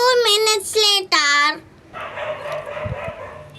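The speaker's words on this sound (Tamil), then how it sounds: "நாய் வேற குலைச்சிக்கிட்டே இருக்குது." A dog gives a few yipping, whimpering barks near the start, followed by quieter background noise with a faint rumble.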